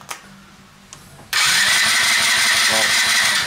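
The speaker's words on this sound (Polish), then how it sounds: "To jest prawidłowy dźwięk silnika czterosuwowego, który jest obciążony normalnie i ma kompresję." A Zipp ZV-50 four-stroke scooter engine with its spark plug fitted is cranked under compression, a rapid rhythmic churning that starts abruptly after a few quiet clicks and runs loud and close to the end.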